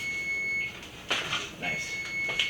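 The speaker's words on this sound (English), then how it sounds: "the buzzer is about to go off" An oven timer buzzer sounding while vegan pizza bakes, a thin steady electronic tone that drops out briefly and returns, with people talking over it.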